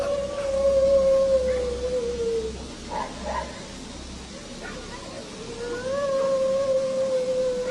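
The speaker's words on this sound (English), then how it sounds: "a group of dogs charges toward it, barking wildly and visibly disturbed by whatever it is they're sensing" A group of dogs in an empty lot in Mexico, filmed on a security camera, gives a long wavering howl-like cry, breaks off, then starts up again over a steady low rumble of background noise.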